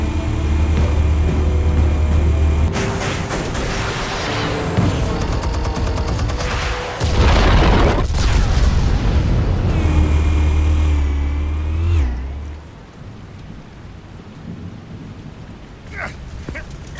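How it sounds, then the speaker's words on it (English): Explosives detonate in the Batman Telltale video game: a loud, rumbling blast bursts out midway over a steady bed of game noise and low tones, then the sound drops to a quieter, sparser ambience. "Explosives armed. Fire when ready."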